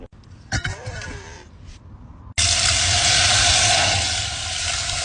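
Water pours into a cooking pot for an Arab-style chicken dish set over a wood fire in a barrel. A brief clatter comes first, then a loud, steady gushing rush that runs on without a break.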